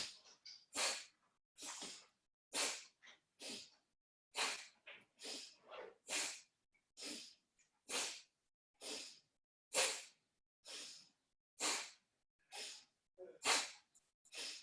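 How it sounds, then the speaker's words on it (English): Alternate nostril pranayama breathing in yoga, a close, regular series of forceful nasal exhales and inhales, about twenty sharp breaths with short quiet gaps between them. "Close your right nostril, exhale left, inhale right."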